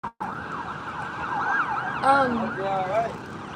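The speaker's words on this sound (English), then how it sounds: "It's a fire truck." A fire truck siren wails close by, its tone sweeping up and down loudly, then shifting pitch as it passes, with faint traffic noise beneath.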